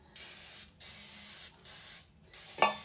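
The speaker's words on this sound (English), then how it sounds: "Alright, so I'm going to use some baking spray." Baking spray hisses from a can into a Bundt pan in four short bursts of about half a second each, close and sharp, the last one ending in a sputter.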